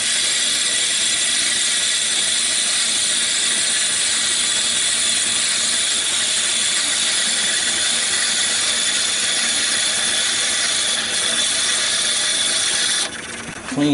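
A wood lathe turns a small yew hollow form slowly at about 400 RPM, giving a steady, loud broadband whirring hum with a faint tool hiss throughout.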